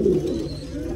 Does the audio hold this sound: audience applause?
no